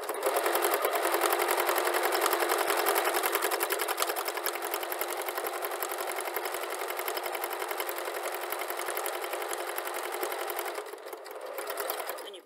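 A sewing machine runs steadily and loudly while back stitching a fabric turban headband, a continuous fast mechanical whir that holds nearly unbroken before easing briefly near the end.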